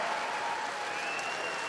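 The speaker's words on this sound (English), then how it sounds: "Please give him a big round of applause." A tennis crowd on Margaret Court Arena at the Australian Open applauds the winner, Andy Murray, on the opening day. The applause is a steady, dense wash of clapping that holds even throughout the short stretch.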